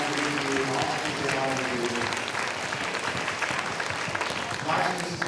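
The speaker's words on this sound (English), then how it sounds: "can we have a big round of applause for our fifth grade?" An audience at a school Veterans Day assembly applauds the fifth grade, a loud, dense wash of clapping that holds steady throughout with a few voices mixed in.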